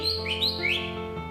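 A green leafbird (cucak hijau) gives a few quick, bright chirps and whistled rising notes, clear and close, over a faint steady background hum.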